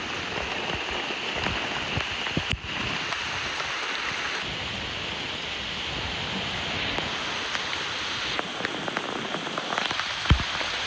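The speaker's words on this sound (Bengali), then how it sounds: "এই কদিন ধরে টানা বৃষ্টি হচ্ছে" Torrential monsoon rain pouring steadily outdoors beside a garden, a dense, loud, unbroken hiss of drops striking surfaces with no voices.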